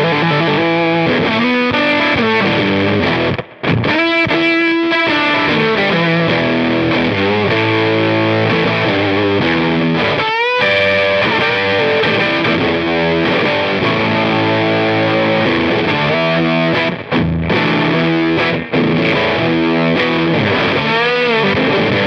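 Electric guitar through a Beetronics Octahive V2 octave fuzz pedal in fuzz mode, cranked high, playing thick, saturated, buzzing sustained chords and notes with brief gaps, loud and continuous with no voices.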